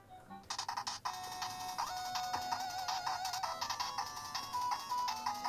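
A bright, electronic startup jingle plays from a small handheld game console speaker, a short run of tones followed by a chiming, tinny melody.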